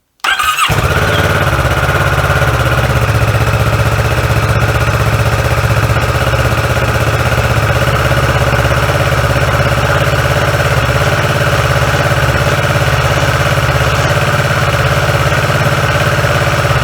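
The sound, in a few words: Kawasaki ER-6F 2016 motorcycle engine started and idling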